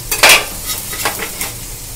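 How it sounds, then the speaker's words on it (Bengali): Soft eggplant being scooped out of a pan onto a plate after cooking: a close scrape and clatter of utensil on metal, one sharper scrape early, then lighter scraping and sizzle-like hiss. "বেগুনগুলোকে আমি এই থালাটার মধ্যে তুলে নেব।"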